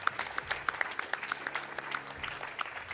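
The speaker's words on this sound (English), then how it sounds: "I don't know what you're clapping for." A sparse, moderate crowd clapping at a speedrun event, scattered hand claps from an audience heard at a distance, fairly soft and continuous.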